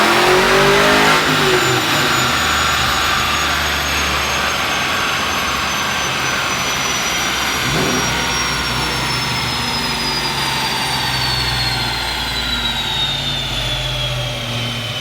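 A 1994 Ford Mustang GT revs hard on a dyno, its engine roaring loud and steady for the whole pull, the pitch climbing gradually before holding near the top, with no one talking.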